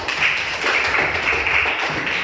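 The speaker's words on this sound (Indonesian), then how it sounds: "Tepuk tangan dulu." A classroom of students claps together after group presentations, a dense, steady patter of many hands held at an even level throughout, with no talking over it.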